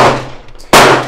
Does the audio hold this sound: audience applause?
no